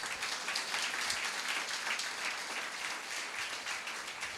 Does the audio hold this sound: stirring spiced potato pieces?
no